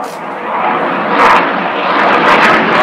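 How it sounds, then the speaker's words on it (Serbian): An airplane flies overhead with a loud, steady roar that fills the whole stretch, swelling slightly toward the end. "Ajde vidi avion, gledaj šta radi avion."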